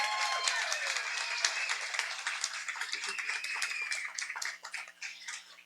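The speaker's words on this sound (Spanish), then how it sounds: "Un aplauso por favor para Edwin Valareso." An audience at a science talk applauds the speaker Edwin Valareso, a burst of clapping that starts strong and thins to scattered claps by the end.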